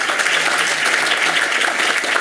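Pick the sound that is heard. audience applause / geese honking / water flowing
audience applause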